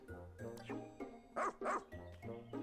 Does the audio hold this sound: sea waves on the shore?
no